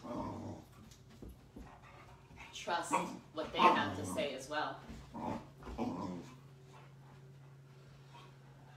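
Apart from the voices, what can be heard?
boisterous puppy growling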